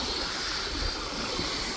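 Dam water pours out through a hydro generator outlet, giving a steady broadband roar of churning water with faint wind, close and continuous, no voices.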